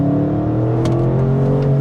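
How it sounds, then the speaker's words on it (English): An Audi RS6 Launch Edition engine hums with a steady, low exhaust drone that grunts slightly as the exhaust valves open, close and continuous. "the valves open up for the exhaust, it makes a bit more of a grunt"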